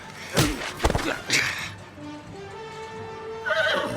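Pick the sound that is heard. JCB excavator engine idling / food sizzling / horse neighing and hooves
horse neighing and hooves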